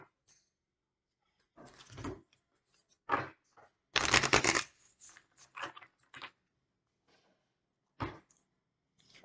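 An oracle card deck is shuffled by hand in short, scattered bursts of soft papery riffling, separated by quiet pauses, with one louder burst in the middle.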